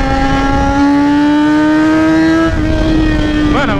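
A Yamaha XJ6 motorcycle engine held at high revs near top speed, a loud steady whine that climbs slightly in pitch, dips briefly, then wavers near the end.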